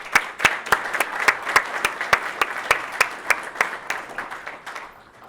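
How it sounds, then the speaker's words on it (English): Applause from an award ceremony audience honoring a family business: dense, steady clapping with sharp individual claps standing out, holding strong before thinning and fading near the end. "Let's give them a round of applause."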